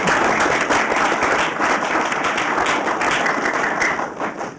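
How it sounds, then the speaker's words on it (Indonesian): A studio audience at a scored competition show bursts into dense, continuous applause, loud and close throughout, thinning slightly just before it ends. "Iya, tepuk tangan."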